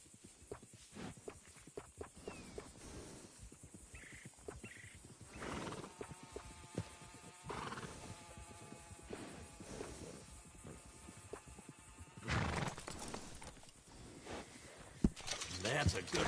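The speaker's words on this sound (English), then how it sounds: "That's a good-looking horse now." Horse from Red Dead Redemption 2 whinnies a few times with soft hoof clip-clops over game ambience and background music, a voice talking intermittently throughout.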